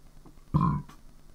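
A single short, low burp from a boss in Hollow Knight, a brief guttural belch over faint background game sound.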